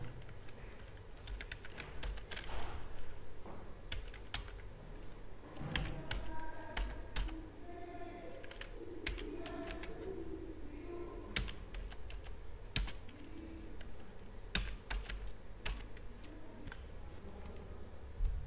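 Clicky typing on a computer keyboard while entering text in the Krutidev 10 font, a steady run of close, distinct keystrokes with irregular rhythm and occasional louder taps, no talking.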